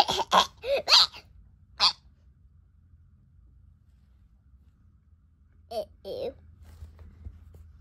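A burst of several quick sharp coughs, then one more, followed by quiet and a couple of brief vocal sounds later on.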